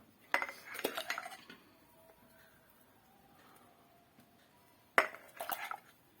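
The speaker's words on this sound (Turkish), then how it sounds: "Şimdi kapatalım, reçelimizi koyalım." Apricot jam is spooned into jars with a plate held beneath, giving two close bursts of metal spoon clinks and dish clatter separated by a quiet pause.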